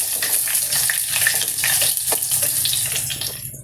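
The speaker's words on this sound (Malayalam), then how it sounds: "കടുക് പൊട്ടി ഞാൻ കറിവേപ്പിലിടുകയാണ്. കുറച്ച് ഉണക്കമുളകാണ്" Mustard seeds, curry leaves and dried red chillies sizzle loudly in hot oil, a dense close crackle with quick pops that fades slightly at the end.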